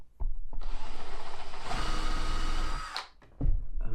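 Power drill boring holes into plywood for a drawer in a Vauxhall Vivaro camper van conversion, a steady loud whirring run of about three seconds that rises in pitch before cutting off, with short clunks at either end.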